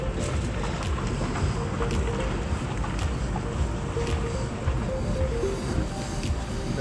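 A banana boat ride towed across the sea off Alanya gives a steady, close engine drone and rushing water with gusts of wind, continuous throughout and with no talk.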